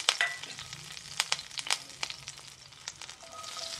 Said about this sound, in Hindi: मस्टर्ड ऑयल गरम किया है। अब इसमें हमें सारे छौंक के चीज़ें डाल देनी है